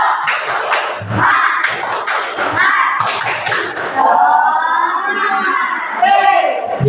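A classroom of pupils performs a spirited clapping chant, with loud group voices shouting in rhythm over bursts of clapping and thumps that last several seconds, close and lively.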